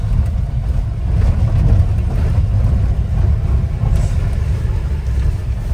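A 4x4 vehicle grinds up the steep mountain road toward Hamta Pass with a loud, close, steady low engine rumble and constant cabin vibration, no voices.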